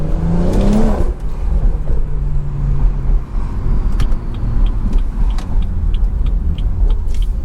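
A BMW 340i with a B58 engine driven hard away from a college campus, its loud deep engine roar rising early and then holding a steady droning rumble with road noise throughout, close from the cabin, no talk.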